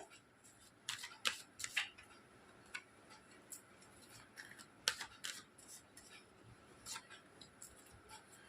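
Tarot cards being drawn and handled for a reading, giving soft, scattered snaps and flicks that come in short bursts with gaps between them, fairly quiet and close, with no talking.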